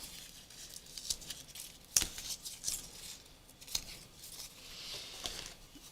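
A rotary cutter slicing through card for mixed-media note cards, with a few scattered crisp cutting scrapes and light rustling, close and fairly soft.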